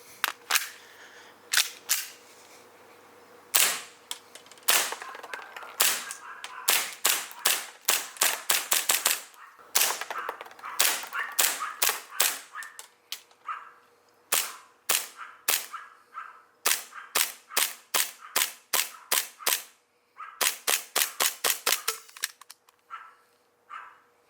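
A stock Hi-Capa airsoft pistol fires on green gas in rapid bursts and single shots, sharp cracking pops up close, with brief pauses between strings of fire and no talking.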